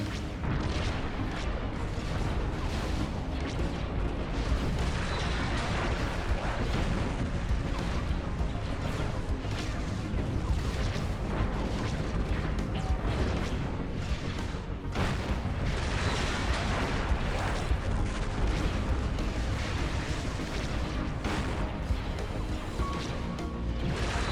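A space battle in the Star Wars game Fallen Republic: a massive battleship assault on a fleet, heard as a dense, unbroken wall of crashing explosions and booming fire that stays loud throughout.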